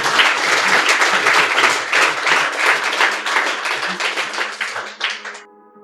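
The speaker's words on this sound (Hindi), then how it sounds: "अगली लाइन पे मैं चाहूंगी तालियां हो" An audience at a Hindi poetry reading breaks into loud, dense applause that carries on steadily and then thins out and stops near the end.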